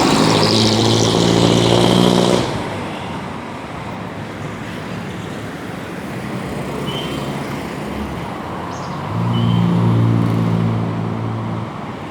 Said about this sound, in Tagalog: Sa may highway na tayo.